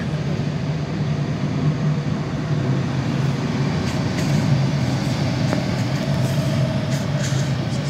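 Loud, continuous low rumble of a passing train in Miskolc-Tiszai, Hungary, steady throughout, with faint higher squeals and rattles near the end.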